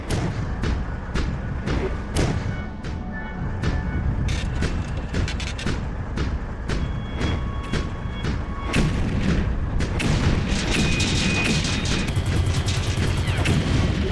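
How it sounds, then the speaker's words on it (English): Mech cannon fire and tank explosions in the shooter game Bet On Soldier: Blood Sport, a rapid, dense series of sharp booms and gunshots continuing throughout amid a constant loud battle din. "a mech with a cannon, and set to work blowing up the tank"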